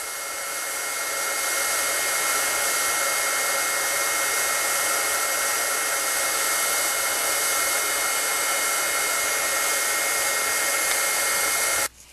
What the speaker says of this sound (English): Using my heat tool to emboss this.